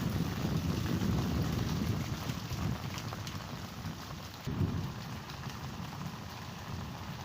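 Heavy monsoon downpour in Taxila drums steadily and loudly on surfaces nearby, a dense continuous roar that eases slightly midway before swelling again, with some wind noise on the microphone.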